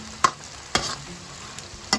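Garlic fries in very hot oil in a pan while curry is being cooked, giving a soft sizzle under a few sharp clinks as a utensil stirs it.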